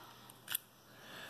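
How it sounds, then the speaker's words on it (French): A SIM card tray is pulled from a Huawei nova 2i / Mate 10 lite smartphone, giving a single short, faint click in a quiet room with nothing else around it. "L'extraction de la carte SIM"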